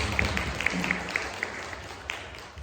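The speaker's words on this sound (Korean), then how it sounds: "우리 감사의 인사를 박수로 전하겠습니다" Church congregation applauding during a Sunday worship service, a soft, somewhat distant patter of clapping with a few crisper claps standing out, gradually thinning toward the end.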